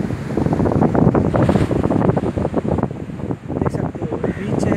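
Sea waves and wind on Kalpeni beach in Lakshadweep, a steady rushing surf with heavy wind buffeting the microphone throughout.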